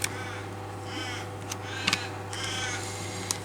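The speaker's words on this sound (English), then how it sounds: "the peewee's up there fighting with the other bird" A peewee, or magpie-lark, calls harshly while fighting another bird overhead outdoors. Several rasping calls repeat over a steady background hum.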